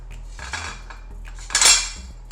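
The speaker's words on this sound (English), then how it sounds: "Just gonna put a few out here on my plate." Black soybean meatballs being served onto a plate with cutlery: a few quick metal-on-ceramic clinks and scrapes, with a louder clatter near the end, close up over a low steady hum and no talking.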